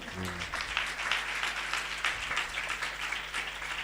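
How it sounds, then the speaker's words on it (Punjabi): A church congregation at an Easter Sunday service claps in praise, producing a fairly even wash of hand claps over a low steady hum that runs throughout. "ਪ੍ਰਭੂ ਲਈ ਤਾਲੀ ਵਜਾ ਕੇ ਮਹਿਮਾ ਕਰੋ।"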